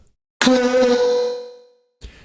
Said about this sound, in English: you could take this up to a more extreme, and you get that kind of ringing, echoing thing going on